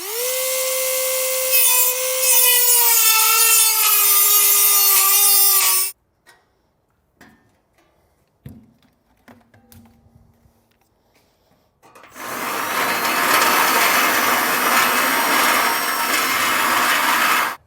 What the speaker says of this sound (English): I'm just going to use a Dremel tool and a grinding bit and carefully remove this material.